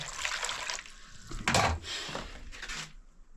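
Water being poured out for hand washing, a steady splashing stream broken by a louder gush in the middle and a short trickle near the end, close and moderately loud.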